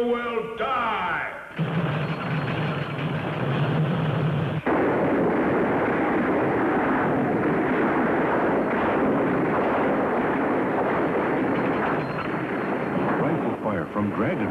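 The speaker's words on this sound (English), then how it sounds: "Rifle fire from Dragon. That is a man-made creature of destruction, Tonto." Cartoon rifle fire from a man-made dragon machine of destruction in a Lone Ranger animated western, a dense, sustained barrage of loud booming bursts after a short musical opening.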